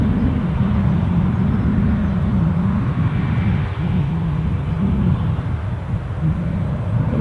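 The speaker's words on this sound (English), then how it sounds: "it's nice to see the Aer Lingus A320 here." Steady low rumble of an Aer Lingus Airbus A320 jet at Edinburgh airport, a continuous droning engine noise held at moderate distance with no voices.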